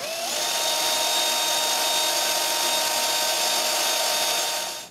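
A power drill bores a screw hole in a walnut clock door, spinning up quickly to a loud, steady high whine that holds for several seconds before cutting off, very close.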